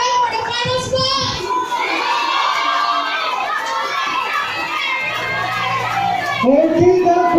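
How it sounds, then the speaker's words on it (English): A warm crowd at a Ms. Nursing 2017 pageant awarding cheers and shouts loudly, with high-pitched excited voices and whoops rising and falling continuously throughout. "the crowd is very warm"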